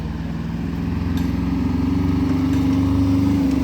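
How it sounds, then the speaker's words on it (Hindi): On a roadside where a motorbike is being repaired, a vehicle engine drones nearby on the road. The steady rumble grows slightly louder as it approaches, with no voices over it. "ये देखिए गाड़ी भी आ रहा है,"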